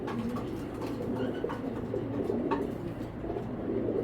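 Racing pigeons coo softly and continuously in a loft, the low murmuring calls blending into a steady background with occasional faint clicks.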